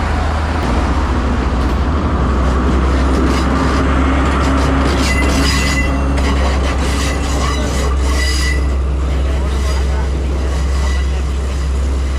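A loud, continuous tourist train rumble with screeching wheel squeals, rolling steadily close by at the Nine Arch Bridge in Ella, Sri Lanka, while a voice talks underneath.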